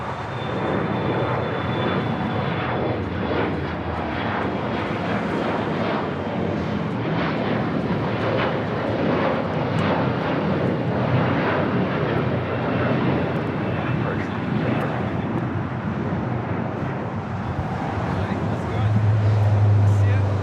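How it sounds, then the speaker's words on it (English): A SkyWest Embraer E175 jet airliner takes off from LAX with a continuous distant engine roar that swells slightly toward the end, heard under a voice talking throughout. "Eagle operated by SkyWest Airlines. Flight 4916 heading to Houston in an E175."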